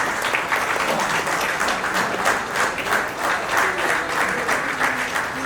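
Sustained audience clapping fills a web-series thanks meet on a stage, a dense, even patter that holds steady from start to finish with no talk over it.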